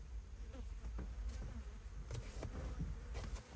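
Flies buzz close by around a farm with chickens, a continuous drone with shifting whines as they pass near and away, with no talk.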